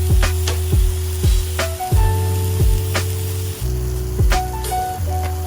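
Minced garlic sizzles steadily in a hot pan alongside half an onion for Peruvian arroz con pollo, with a loud continuous fry, repeated utensil taps and scrapes, and a faint background hum.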